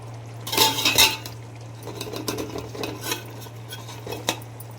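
A spoon scrapes and clinks against a pot as cooked biryani rice is layered over mutton. The metal knocks are irregular and fairly close, strongest near the start, with softer scraping afterward.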